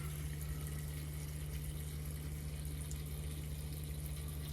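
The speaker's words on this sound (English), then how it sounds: "I'm gonna fill this up about 3/4 with the filtered water" Filtered water running from a tap into a pot at a kitchen sink, a faint, steady stream under a constant low hum, with no talking.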